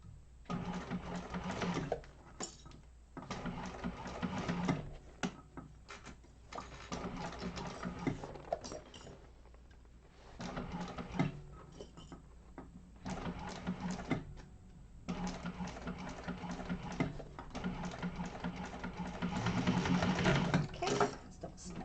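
A sewing machine stitches a bound bowler bag in steady mechanical bursts, running in long stretches with brief stops between seams and growing loudest near the end.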